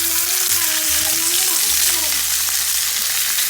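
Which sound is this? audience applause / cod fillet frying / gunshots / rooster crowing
cod fillet frying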